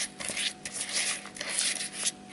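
A utensil scrapes and swishes around a bowl of yeast and sugar in quick irregular strokes, close and fairly quiet.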